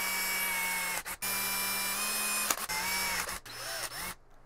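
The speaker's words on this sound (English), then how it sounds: "So we're just going to take and drill our holes." Power drill boring holes for a homemade aeroponic plant cloner, a steady whining motor run broken by a few short pauses and restarts, close and loud, with no talking.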